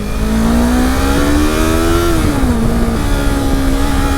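Close, loud motorcycle engine drone during a ride, pitch rising then dipping and settling as the throttle eases, with heavy wind buffeting over the whole stretch and no voices.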